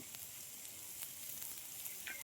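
Chopped potatoes frying with spices for Bengali ghugni, a soft continuous hiss of oil with a few faint stirring ticks, quiet and even before cutting off abruptly.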